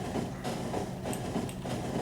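A personal train running on nuclear fuel in Factorio rolls along with rhythmic clickety-clack over the rails, a steady mid-loud rumble with recurring wheel clacks.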